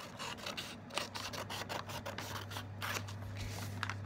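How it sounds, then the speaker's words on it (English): Scissors cutting through diamond painting packaging, a run of close, rhythmic snips and rasping slices over a low steady hum, fairly quiet. "So firstly, I want to cut this off, take this part off"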